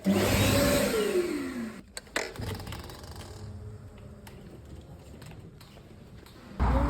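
Loud whooshing blast of an electric hand dryer that cuts out, followed by quiet room noise and clatter before the dryer roars again.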